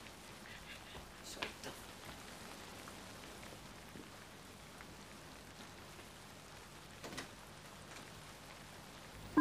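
Steady rain falls and patters on surfaces at a soft, even level, with a couple of brief louder knocks and no voices.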